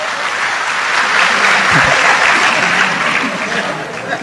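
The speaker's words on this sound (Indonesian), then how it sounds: "Tepuk tangan untuk Gus Kausar nggak apa-apa" Audience applause at an Indonesian religious gathering for Gus Kausar, a steady wash of clapping filling the whole stretch, loud and dense, with a brief low thump in the middle.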